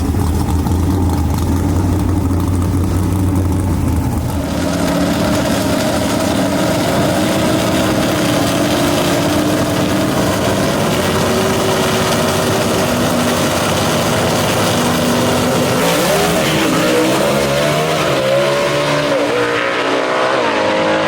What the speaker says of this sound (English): A lot of tire spin for Ben Christopher down low, and that was all it took for Greg Stelz